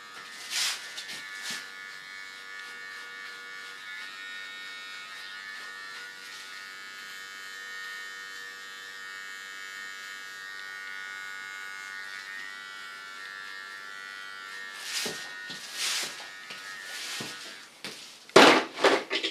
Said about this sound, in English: with my small clipper, I clean the contour line. Small facial hairs.